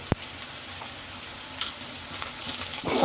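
Onions and green chillies fry in a pan with a soft, continuous sizzle, a few sharp clicks of stirring, and the crackle swelling slightly toward the end.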